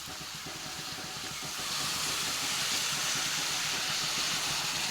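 Water sprinkled onto potatoes in a hot pan, a steady broadband hiss of steam that swells louder after the first second and then holds evenly, with no talk.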